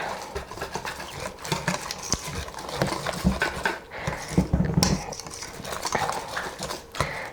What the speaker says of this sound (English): I'm just going to mix until the flour incorporates the beer